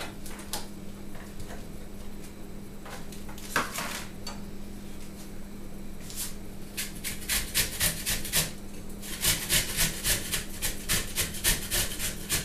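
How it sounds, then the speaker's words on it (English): An onion is grated by hand into a bowl of ground turkey and ground round, with sparse scraping at first, then quick, close, rhythmic rasping strokes in bursts toward the end. "I always like to grate an onion."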